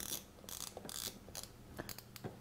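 The igniter of a gas stove burner clicks as a burner under a pan is switched on in a home kitchen. Several dry, quick ticks come in an uneven rhythm, close and fairly quiet, with no speech.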